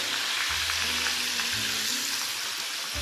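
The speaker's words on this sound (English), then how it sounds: "So I'm just going to start in and put in the other chicken. And it's just instantly going to start frying." Chicken sizzles and crackles steadily in hot oil, a dense, even frying hiss with faint low thumps underneath, no voices.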